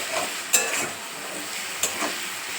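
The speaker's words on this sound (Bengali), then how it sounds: "এবার একটু ঘেঁটে দেবো নাড়িয়ে।" Lote (Bombay duck) fish being stirred in a hot pan gives a brief, close sizzle broken by two sharp utensil scrapes, with no voices.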